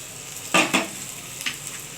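Vegetables fry in a pan for dalia khichuri with a low, steady sizzle, broken by a few short scraping bursts as the pan is stirred.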